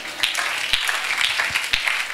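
A church congregation applauds during a sermon, a steady wash of many hands with rhythmic accented claps recurring about twice per second.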